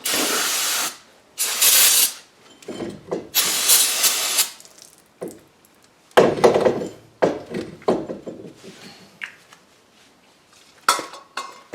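Brake cleaner sprayed onto the front brakes of a 2005 Buick Rendezvous gives several loud hissing aerosol bursts of a second or so each, with metallic clinks and handling noises between them.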